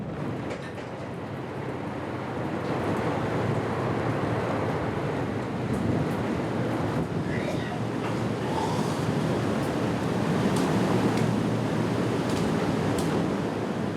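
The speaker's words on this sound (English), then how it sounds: "Huge waves rock the humanitarian ship to and fro." Huge Mediterranean sea waves surge and crash against a rocking humanitarian rescue ship, with a continuous loud roar of surf and buffeting wind, no voices.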